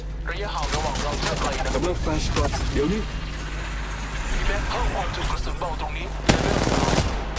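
Rapid automatic gunfire and bursts from the mobile battle royale game Apex Legends Mobile, loud and dense throughout, with someone talking excitedly over the shooting.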